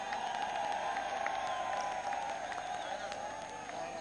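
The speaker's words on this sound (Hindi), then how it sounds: "इनको तालियां बजा के इनका खैर मकदम करो।" A large crowd at a political rally in Daska, Pakistan, claps continuously at a steady volume for several seconds. A faint sustained tone runs underneath the applause.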